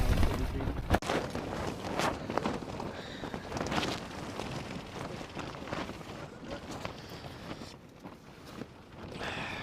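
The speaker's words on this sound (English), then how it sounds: "it is absolutely blowing a hoolie outside" Strong gusts buffet the microphone outside a Naturehike Cloud-Peak 2 tent, a loud roaring rush with irregular flapping thumps that ease and swell again.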